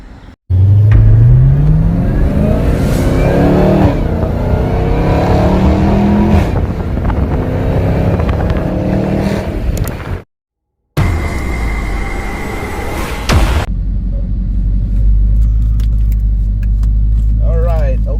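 A car starting off and driving along, with steady engine and road noise throughout, a brief cut partway, and someone talking over the ride.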